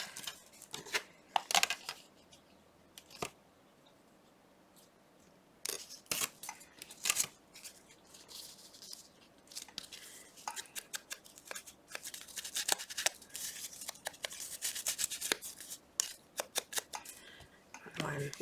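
Paper pages being torn by hand, a series of short crisp rips and rustles, some quick and sharp, others longer, scattered through quiet stretches with a voice speaking in between.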